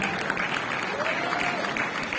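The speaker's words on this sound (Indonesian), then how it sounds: "tepuk tangan untuk Al-Ustadz Duswono." Audience applause at a political declaration event in Jakarta, a steady wash of clapping from a crowd throughout, with a voice faintly audible over it.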